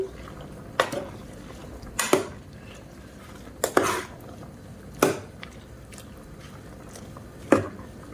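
Amaranth leaves being stirred into dal in a pot, with a spoon knocking and scraping against the metal in sharp, irregular clanks, about six distinct hits over a soft bubbling background.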